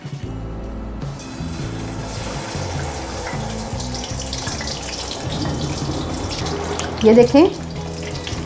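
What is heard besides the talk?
marinated fish pieces frying in hot oil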